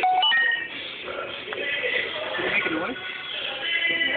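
A Casio G'zOne Rock phone being called during a shock test, with tones heard over a band-limited phone-like line amid ongoing noise and muffled voices.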